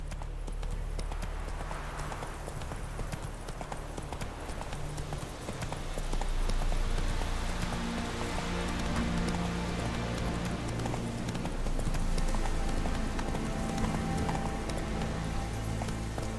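A horse galloping in The Witcher 3, a steady close clip-clop of hooves that runs the whole time and grows louder about halfway through, over a bed of low rumbling game ambience.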